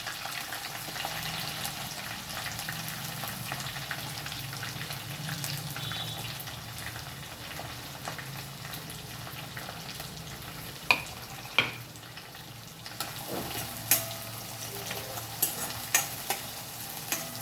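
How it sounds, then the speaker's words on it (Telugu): Onions and curry leaves fry in a pan with a soft, steady sizzle, joined near the end by a few sharp clinks and scrapes of stirring, quiet and close with no talk. "కరివేపాకు ఉల్లిగడ్డలు కూడా వేసుకోవాలి"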